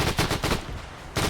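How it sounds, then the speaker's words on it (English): Burst of machine-gun fire from a tank raking infantry in the Arma 3 battlefield, loud rapid broadband shots in several quick pulses, a brief gap, then another burst. "This tank's firing machine gun back here on these infantry"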